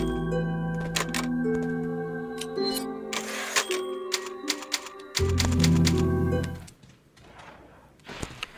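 Typewriter save point in the Resident Evil 4 video game, heard as rapid clacking keystrokes and bell-like dings over layered synthesized game music tones, sustained for several seconds before fading into quieter ambience.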